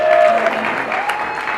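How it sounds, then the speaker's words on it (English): Applause from guests at a wedding reception, a steady wash of clapping that stays fairly loud across the whole short stretch, with a tone or hum running beneath it. "Round of applause."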